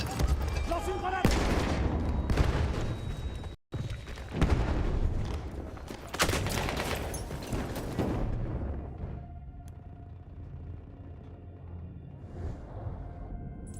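Battlefield 1 combat, with heavy booming explosions and bursts of gunfire rolling through the first eight seconds, including a grenade blast, then fading into quieter distant battle noise. Voices talk over it.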